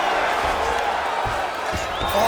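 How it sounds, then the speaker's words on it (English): Arena crowd noise in a UFC video game bout between Islam Makhachev and Dustin Poirier, a broad roaring cheer swelling as the fighters return to their feet after grappling, steady and loud with a few scattered shouts. "crowd just loving it as the fighters, after an extended grappling battle, make their way back to the feet"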